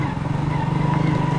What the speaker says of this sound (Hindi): bike driving,